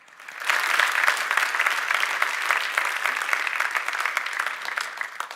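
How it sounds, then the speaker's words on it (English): An audience at a voters meeting applauds with steady, moderately loud clapping that rises quickly and holds for several seconds. "give them a round of applause for their service"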